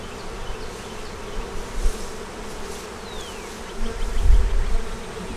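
Honey bees buzzing at a hive while festooning on foundation, a dense continuous hum close by that swells louder toward the end.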